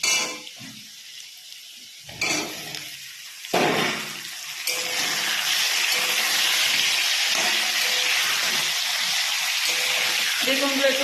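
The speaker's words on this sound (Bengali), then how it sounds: "এবার আমি বেগুনগুলো দেব" Eggplant pieces go into a pan of hot oil where potatoes have been frying, with a few bumps and clatters before a loud, steady sizzle swells and carries on, close by.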